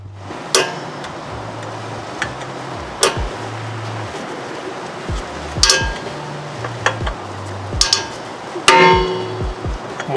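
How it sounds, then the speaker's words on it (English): Sharp metallic clicks and pops ring out at irregular intervals while brake parts are tightened during a swap from Toyota Chaser brakes to IS300 brakes, heard up close over low tool and handling noise. "Bringing you guys up close so you can hear this pop"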